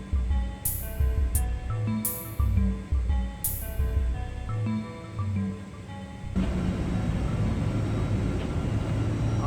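Inside a passenger aircraft cabin before takeoff, tonal chimes and music-like notes play before a steady, broad engine roar takes over for the last third and stays constant.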